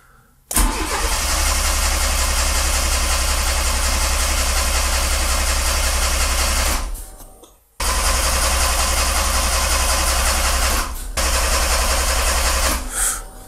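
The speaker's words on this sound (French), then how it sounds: "Donc l'injecteur d'origine, visiblement, il a pas envie de démarrer sur l'éthanol." A Fiat Seicento SPI turbo, running on E85 ethanol with its original injector, cranks loudly and steadily on the starter for several seconds without catching, stops briefly, then cranks again in another long, unbroken burst, close up.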